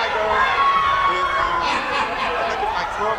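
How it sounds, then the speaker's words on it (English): A lively crowd at a hair show cheers and claps in a sustained roar, with excited shouts rising above the noise throughout. "The crowd is applauding for Richard."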